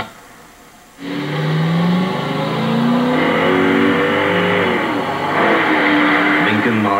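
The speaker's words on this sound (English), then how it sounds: "Lincoln Mark 8, the luxury coupe with a 32-valve, 280-horsepower sound system." A Lincoln Mark VIII luxury coupe's 32-valve, 280-horsepower engine suddenly starts after a quiet moment, then revs loudly and steadily with rising and falling pitch, surging again near the end.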